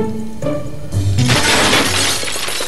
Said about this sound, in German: durch das Geräusch eines zerbrechenden Fensters geweckt